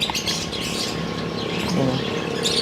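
Pet birds chirp and squawk during hand feeding, busy close-up calls and rustling that continue throughout, with faint human voices in the background.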